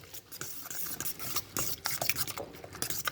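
Eggs are beaten in a bowl with a utensil, a quick irregular run of scraping, clinking strokes heard close up, with no talking.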